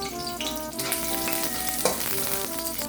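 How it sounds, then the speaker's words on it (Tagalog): Garlic drops into hot oil for pork and beans and fries with a bright, steady sizzle over a faint tonal hum, close by and with no one speaking. "Ayan, mainit itong mantika na rin. Lagyan natin itong bawang."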